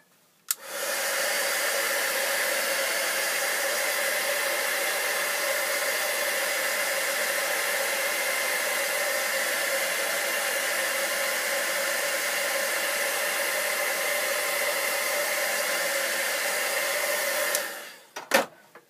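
Heat tool blowing over wet watercolor paper, a loud steady whooshing drone that starts abruptly, runs unbroken for about seventeen seconds, then cuts off.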